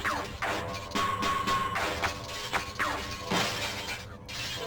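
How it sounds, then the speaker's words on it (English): Glass shattering under gunfire in a video game demo: repeated sharp crashes of breaking panes with tinkling shards, several bursts in quick succession over a steady game background. "they have bullet sound effects for glass"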